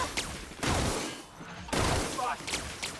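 Bursts of rapid gunfire from a weapon in the video game The Outer Worlds, two loud dense volleys separated by a brief lull, with a voice talking over parts of it.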